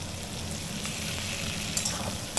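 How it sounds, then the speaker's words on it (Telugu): Ginger garlic paste sizzles steadily in a hot pan for chilli chicken, a close, continuous hiss of frying broken by a few small pops. "అల్లం తెల్లుల్లి పేస్ట్ వేసుకోవాలండి."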